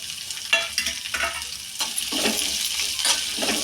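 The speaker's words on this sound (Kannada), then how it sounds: "ಜೀರಿಗೆ ಸ್ವಲ್ಪ ಈರುಳ್ಳಿ ಕರಿಬೇವು ಹಾಕ್ಬಿಟ್ಟು ನಾವು ಚೆನ್ನಾಗಿ ಇದನ್ನು ಫ್ರೈ ಮಾಡ್ಕೊಳ್ಳೋಣ" Green chillies, cumin, onion and curry leaves fry in hot oil for brinjal chutney, a steady crackling sizzle with stirring scrapes and a few sharper pops, close and alone.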